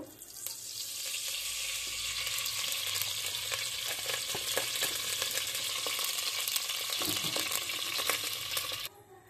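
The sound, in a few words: oil heating and sizzling in a wok for pilau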